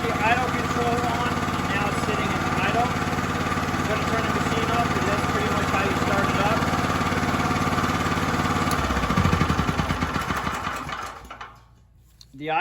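A Duromax XP 10,000 watt generator runs with a steady close engine drone, then drops in pitch as it throttles down to idle near the end before going quiet.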